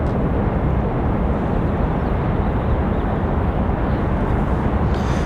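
An AeroMexico airliner departs Raleigh-Durham International with a dense, steady jet roar close and loud, holding constant, with no speech heard.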